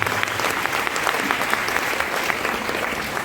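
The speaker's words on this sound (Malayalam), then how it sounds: "ഗഫൂർ സാറിന് നമ്മുടെ നല്ലൊരു കയ്യടി" A gathered audience claps for Gafoor sir at an award event, sustained close applause with crisp individual claps throughout and no talking.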